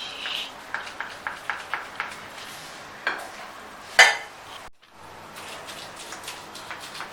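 A knife slices through a tray of homemade sugar-free date sweets (khajoor mithai) in a home kitchen, giving a run of soft, regular tapping cuts followed by a few louder knocks and clatters against the tray.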